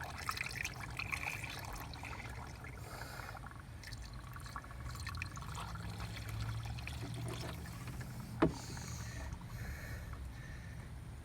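Water is poured into the radiator of a Corvette C4, making a faint, soft trickle and gurgle with small splashes. A brief sharp knock stands out near the end.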